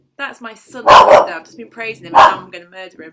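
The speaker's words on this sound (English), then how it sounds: "that's the dog kicking off too." A dog barks in two loud bursts at close range over ongoing conversation, with someone talking through and between the barks.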